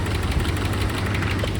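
An old muscle car engine, left unrun for over ten years, idles with a steady low rumble and a fast ticking knock from a sticky lifter, loud and close with no talking.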